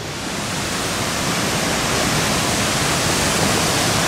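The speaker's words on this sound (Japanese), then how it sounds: "これが吹き割れの滝だよ。" Fukiware Falls, a 7 m high, 30 m wide waterfall in the rocky Katashina gorge, gives a loud, dense, unbroken roar of falling water that fills the scene alone with no voices.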